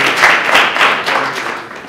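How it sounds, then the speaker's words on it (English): Loud audience applause greets a speaker at a data science conference, a short burst of many people clapping close by, swelling in waves before easing slightly. "Let's give him a round of applause."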